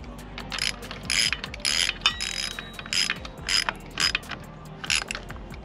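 Ratchet wrench tightening a bolt while an ARB Twin air compressor is installed in a Toyota Tacoma, giving close, bursty runs of rapid clicking in several short strokes with brief pauses, no talking.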